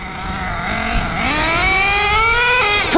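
Nitro-powered HPI Racing Savage X4.6 RC monster truck engine revving loud and close, pitch climbing steadily in a sustained high whine with a sharp blip near the end.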